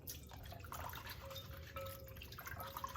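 Chickpeas rinsed in a bowl of water give a faint, close trickle and drip with soft sloshing, steady and quiet, and no one talks.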